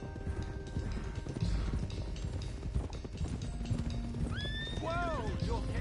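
Horses in Red Dead Redemption 2 clip-clop steadily along at a trot under a faint voice, then a loud horse whinnies near the end, its neigh rising and falling over the hoofbeats.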